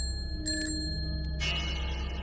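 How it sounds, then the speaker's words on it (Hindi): A bicycle bell rings twice, a metallic ding with lingering overtones over a low steady hum, set in an eerie night-time horror scene on a lonely village path, followed by a brief noisy swell. "दूर से साइकिल की घंटी सुनाई दी।"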